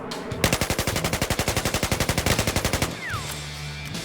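An M416 rifle in Battlefield 4 fires a rapid, evenly spaced string of about two dozen loud, close shots lasting over two seconds, then stops, leaving quieter game ambience.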